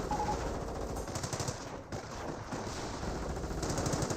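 Continuous machine-gun and rifle fire from the Company of Heroes World War II strategy game, a dense loud crackle of bursts running the whole time with no pauses.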